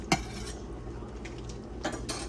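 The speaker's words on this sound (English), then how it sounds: "we gotta put a little butter in there. Put about a 1/2 stick of butter." Half a stick of butter dropped into a pan while cooking chicken fried rice, giving a clinking pan knock near the start and a soft clatter later over steady kitchen background.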